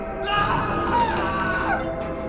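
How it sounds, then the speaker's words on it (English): A man's scream from the survival horror game Silent Hill 2, a sustained, wavering wail with bending pitch that fills a couple of seconds loudly and close. "James's hilarious scream"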